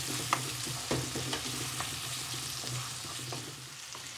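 Chopped tomatoes sizzle in a frying pan for aubergine bhaaji while being stirred, a steady soft sizzle with faint scraping and a few light utensil taps, close and without voices.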